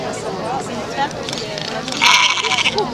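Sheep bleat amid people talking and outdoor background noise at a fibre festival, with a louder, nearer bleat toward the end.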